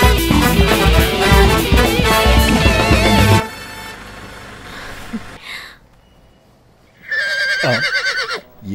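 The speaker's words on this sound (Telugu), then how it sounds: "ఏంటిది సకిలిస్తుంది" A horse whinnies loudly near the end of a scene from a Telugu film, following a burst of loud music that cuts off abruptly and a quieter stretch.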